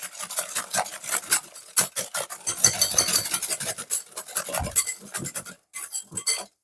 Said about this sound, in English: I'm going to go in with a whisk.